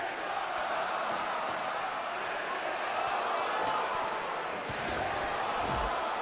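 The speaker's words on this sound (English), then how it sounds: "And the crowd, unsurprisingly, loving this match." Wrestling crowd at a tag team match, a steady distant roar of cheering and noise filling the whole stretch with a few sharp slaps and thuds on top, no voices clearly in front.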